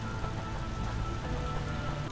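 Dense, steady rain patters across the surfaces of a location in the side-scrolling game Vigil: The Longest Night, a continuous loud wash with no voices.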